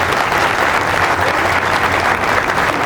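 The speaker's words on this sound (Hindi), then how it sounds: "यार इस बात से आपकी तालियां कमजोर है" Sustained, dense applause from an audience at a Hindi religious lecture hall, steady and fairly loud throughout with no speech over it.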